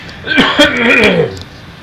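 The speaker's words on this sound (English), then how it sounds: "I'm going to cough again" A single person's throat-clearing cough, short and close, with a brief voiced rasp trailing off.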